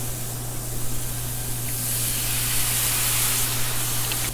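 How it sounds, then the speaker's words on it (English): Red wine poured into a hot pan holding chicken thighs, a steady loud hiss of sizzling and steam that runs throughout with no break, over a low constant hum. "Glaze with a little bit of red wine."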